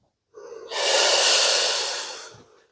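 A deep breath in, taken during a hypnotic sleep-relaxation session, sounds as one long, loud, close airy inhale that swells, holds steady and fades away.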